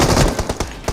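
An M249 machine gun fires in a mobile battle royale shooter game, a rapid loud burst of several shots in quick succession, close and brief, with no speech.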